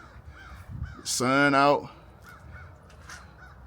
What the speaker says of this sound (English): crows crowing, birds chirping